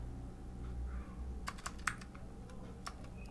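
Keys clatter in quick, uneven bursts on a computer keyboard as Android layout code is entered in Android Studio, with sharp clicks rising over a low steady hum and no voices.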